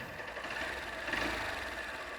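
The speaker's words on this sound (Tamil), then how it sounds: "இன்ஜின் நாய்ஸை கேளுங்க எப்படி இருக்குன்னு." A Honda Unicorn 160 BS6 motorcycle engine runs at idle, a faint, steady, refined mechanical hum with light rapid ticking, heard close and alone.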